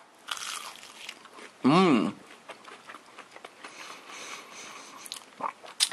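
A freshly fried battered onion ring bitten into at a burger restaurant, giving one loud, close crunch with crisp crackling, surrounded by chewing noises and a brief murmur of appreciation.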